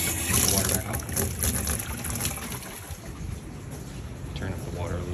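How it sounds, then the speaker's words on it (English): Well water flowing again after the supply is switched back on, a steady rushing splash that is loudest at first and then eases slightly, with a person speaking over it. "Put the water back on."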